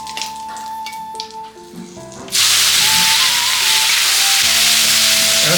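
Onions tipped into hot oil with three small bay leaves for an egg curry, bursting into a loud, steady sizzle that holds after a quieter opening of clinking and kitchen noise.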